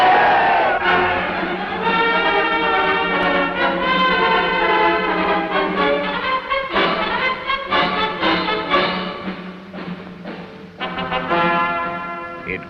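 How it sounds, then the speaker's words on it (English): Crowd cheering at an Indonesian independence rally: a loud, dense roar of many voices shouting and chanting together, sustained throughout with rising and falling swells. "It grew out of the cheering."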